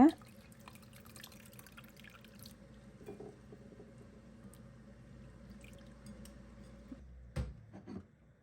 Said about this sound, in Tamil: இப்போ நல்லா கழுவி எடுத்துட்டு நல்லா இப்போ தண்ணியை இப்படி புழிஞ்சு எடுத்துக்கொள்ளுங்க